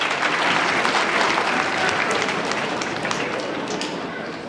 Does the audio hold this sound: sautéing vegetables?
no